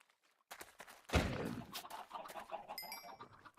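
Chickens cluck in a Minecraft-style video game, a burst of close, busy clucking with soft footstep-like sounds and a brief chime near the end, all fairly quiet.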